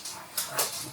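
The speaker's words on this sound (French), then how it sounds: "Désolée pour les bruits, c'est mon chien derrière." A pet dog whimpers in the background indoors, two short, high, thin bursts rising over a quiet room, moderately faint and with no talk.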